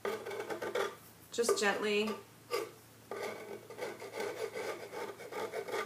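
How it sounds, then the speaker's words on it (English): A scraper scrapes paint off a wooden dresser drawer in close, rough rasping strokes with short pauses between them, while a person speaks softly over the work. "I take a scraper, and I go ahead and I scrape that paint off"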